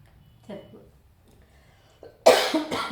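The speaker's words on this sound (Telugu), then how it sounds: "దగ్గు వస్తుందమ్మా" A person coughs twice in quick succession, a harsh, loud pair of bursts near the end, preceded by a few faint vocal murmurs and near-silence.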